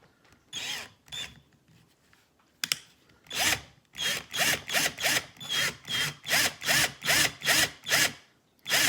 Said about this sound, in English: I'm just gonna take a 1/8 inch drill bit and my trusty drill